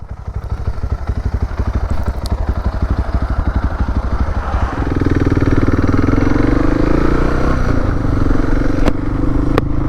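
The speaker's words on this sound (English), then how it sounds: "Got to keep the bike going so it doesn't die on me." A motorcycle engine runs steadily on a Scottish highland road beside a forest, chugging with a fast regular beat, then rising into a louder, smoother drone halfway through. It sounds close and continuous, with no talk.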